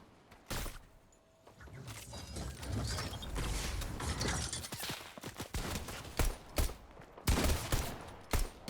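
Gunfire in the Fortnite battle royale video game, bursts of rapid shots and mechanical clicks in clusters, loud and close, with the sound quieting briefly before more shots and no voices.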